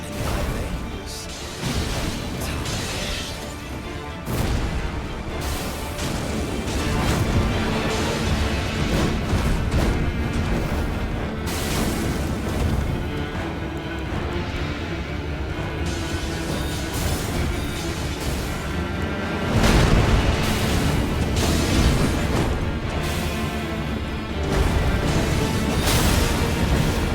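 Dense chaotic clashes, booms and whooshing impacts during combat in the Elden Ring video game, loud and nearly continuous for the whole stretch with no talking.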